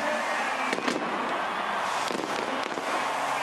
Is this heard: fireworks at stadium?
yes